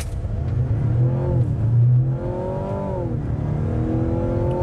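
A 2024 Mazda CX-90 SUV pulling away in electric EV mode, a steady rising whir with harmonic tones sweeping up and down in pitch over a low hum, close and moderately loud, with no one talking.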